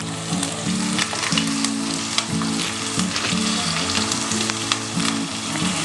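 Garlic and green chillies sautéing in a pan for gobi manchurian, a steady dense sizzle with frequent stirring scrapes, close and loud, with background music tones underneath and no talking.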